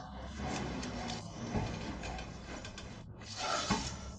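Rear brake caliper piston on a 2004 Peugeot 307 being wound back by a turning tool, giving a steady close grinding rasp that runs throughout with a few louder scrapes, no voices.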